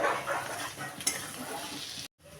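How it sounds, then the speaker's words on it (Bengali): Taro cooked in spiced oil in a pan, giving a steady bright sizzle with some stirring noise, followed by a short sharp cut to near silence just before the end. "কচুটা আমি অল্প খানিক্ষণ কষিয়ে"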